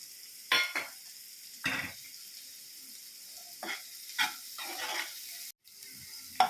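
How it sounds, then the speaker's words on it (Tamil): Onion and slit green chillies are sautéed in butter in a pan for chilli chicken. Soft, faint frying sits under intermittent clinks and scrapes of a utensil stirring against the pan, with quiet gaps between strokes. "வெண்ணெயிலேயே நல்லா வெங்காயமும் பச்சை மிளகாயும் நல்லா வதங்கிடுச்சு"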